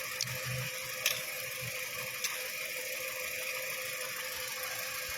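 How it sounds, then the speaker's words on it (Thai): A used taxi's car engine idles with a steady mechanical hum and faint rhythmic ticking, plus a couple of brief clicks, close and even. "มาฟังเสียงเครื่องยนต์นะ"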